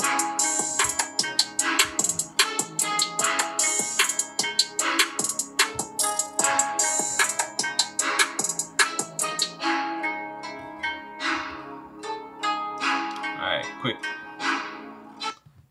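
A Samsung Galaxy Z Fold 4 plays its startup tune through its own speakers, a quick, bright, rhythmic melody of plucky percussive notes that thins and slows toward the end.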